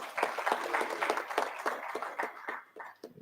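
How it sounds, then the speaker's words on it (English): At a conference on clean air, a modest round of applause breaks out after a talk: scattered, uneven claps from a small audience, fairly faint and thinning toward the end. "A big clap for Dr."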